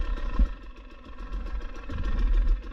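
A 2022 GasGas EC 300 enduro motorcycle engine idles at low revs with a low, uneven throb and occasional clattering pulses, close and moderately loud.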